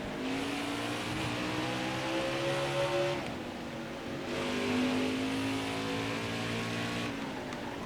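A NASCAR Xfinity race car engine in NASCAR Heat 5 at the Charlotte Roval, damaged but running, roars loudly and continuously, with gear shifts, revs rising and dropping, and other cars around, no talking.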